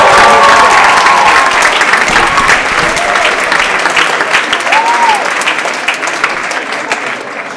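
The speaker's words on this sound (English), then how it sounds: "please give her a warm applause" Audience applause at a live concert performance, loud and sustained claps filling the whole stretch with a steady dense texture, slowly easing slightly toward the end, with faint crowd noise underneath.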